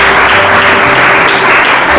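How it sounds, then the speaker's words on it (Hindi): A church congregation claps together in sustained, dense applause, loud and continuous throughout, with no voices breaking through. "ताली बजा दो।"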